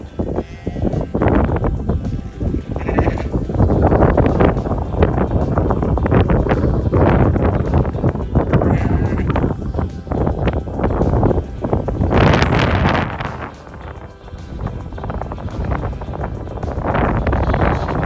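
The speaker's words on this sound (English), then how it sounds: "It is windy" Strong wind gusting across a farm field with livestock, buffeting the microphone in loud, rumbling surges that rise and fall throughout, with faint animal bleats mixed in.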